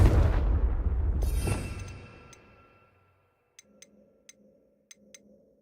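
Confringo explosive spell in Hogwarts Legacy, a loud rumbling blast that fades over about two seconds, followed by quiet, sparse ticking game sounds.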